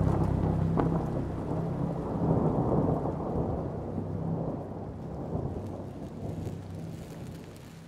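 Rain pelting a car windshield in the video game Hollowbody, a dense, continuous patter with deep rumbling underneath, loud and steady with no voices.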